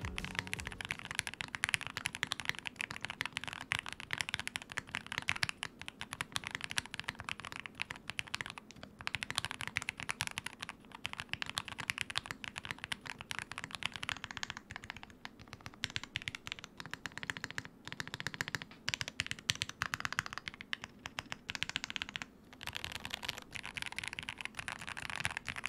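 Typing on a QK60 custom mechanical keyboard fitted with Gateron All Kings switches and a tape-mounted PCB, a dense continuous patter of quick keystrokes with deeper thocks from the spacebar, close and steady throughout with no talking.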